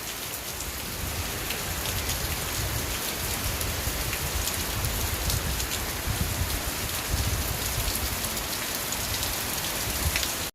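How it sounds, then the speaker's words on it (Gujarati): Heavy rain pours steadily onto a rooftop terrace in Junagadh, a dense, loud, unbroken hiss of drops striking the surface that lasts throughout, with no voices. "ચારે કોર એક હરખું આ ફૂલ વરસાદ હો."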